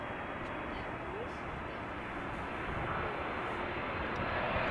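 A Delta Airlines airliner arriving from Tampa gives a steady, broadband engine roar that swells slightly toward the end, with talk heard over it.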